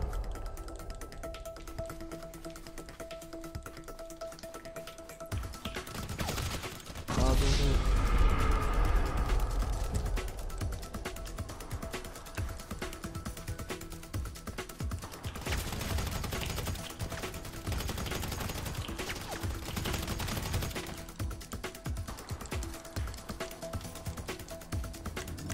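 Gunfire in GTA Online, a burst of loud sharp shots around the middle followed by scattered repeated pops under a steady game soundscape, with no talk.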